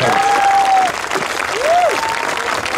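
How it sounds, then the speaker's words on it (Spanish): Street audience at a comedy show in Mexico City's Alameda Central applauding loudly, a dense steady wash of clapping that carries throughout, with a whistling tone sliding over it. "regálame un fuerte aplauso"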